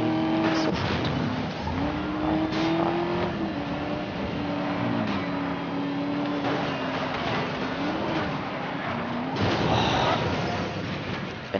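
A race car in Need for Speed Most Wanted (2012) drifts with a steady, loud engine drone that rises and falls through gear changes, tires squealing, while someone talks over it.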